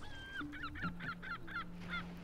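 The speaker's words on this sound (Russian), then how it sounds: "Чайки там чирикают вовсю" Seagull-like cries from the video game Plants vs. Zombies 2: a rapid series of about six short, bright calls at close range, with a steady electronic tone underneath, no talking.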